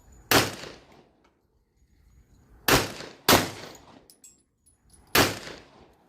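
Four loud, sharp gunshots from a Jiminez JA 9 pistol fired outdoors toward a mountain, spaced irregularly with short decaying echoes between them.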